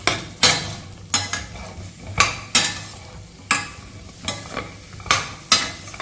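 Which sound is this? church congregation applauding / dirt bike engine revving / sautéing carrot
sautéing carrot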